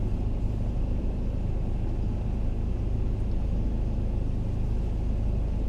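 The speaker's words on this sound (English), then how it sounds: "I'm going to jiggle this car around" A car being maneuvered to turn around on a narrow road near Blackpool, heard from inside as a steady low engine rumble with road noise, unbroken for several seconds and free of talk.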